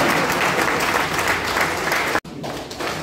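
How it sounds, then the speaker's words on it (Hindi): Audience applause at a finance company's 35th foundation day celebration, loud dense clapping sustained for over two seconds, then a sudden brief cut before the applause resumes. "अब तालियां चाहूंगा समझ में आए तो"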